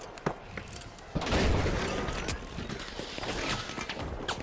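Video game gunfire pops out in a few sharp shots and then becomes a dense, noisy stretch of continued firing and mechanical clatter at moderate loudness.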